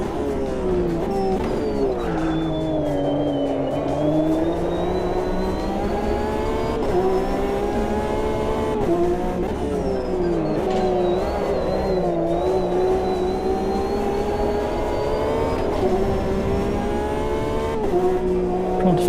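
A race car engine revs in a multiclass sim racing game, loud harmonic engine tones rising and falling through gear changes and throttle lifts, continuous and close for the whole stretch.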